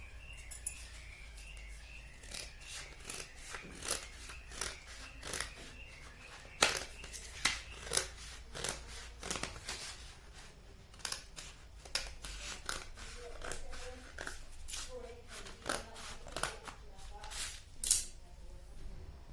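Scissors snip through paper while cutting out a katori blouse pattern, giving quiet, irregular crisp clicks and crunches close by in a hushed room.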